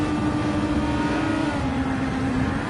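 Ferrari race car engine heard onboard in a racing video game, a loud steady high-pitched drone holding near-constant revs throughout, alone without talk.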